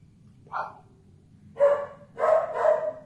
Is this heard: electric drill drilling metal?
no